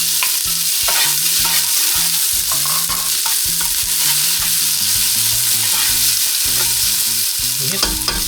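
Onions sautéing in hot, smoking cooking oil, a continuous loud sizzle with stirring scrapes of a utensil running throughout.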